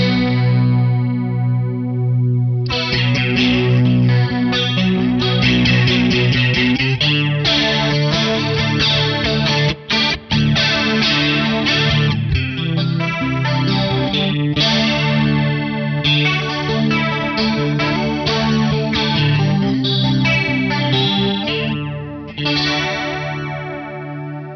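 An electric guitar runs through a Krozz Devices Airborn Analog Flanger pedal set to a bright, vibrant chorus tone, playing strummed chords and ringing notes steadily and loudly for the whole stretch, with no talking.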